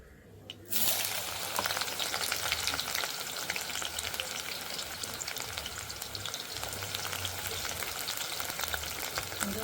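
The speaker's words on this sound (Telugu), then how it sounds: "ఇదే ఆయిల్లో కట్ చేసి పెట్టుకున్నటువంటి ఉల్లిగడ్డలు ఒక 2 వేసుకుంటున్నాను" Chopped onions hit leftover hot oil for an okra chicken curry, a quiet crackle at first, then a sudden sustained sizzle and spatter that keeps frying steadily without voices.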